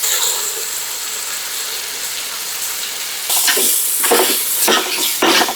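Steady loud sizzling of onions, tomatoes and chili and turmeric powder frying in a pan, with scraping stirring strokes joining in toward the end.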